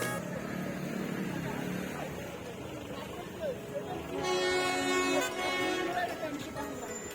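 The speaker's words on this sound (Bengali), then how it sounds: "পাশ টয় ট্রেন যাচ্ছে সেটাও দেখছিলাম" The Darjeeling toy train's horn toots in a sustained blare partway through as it passes, over a busy outdoor din with people talking nearby.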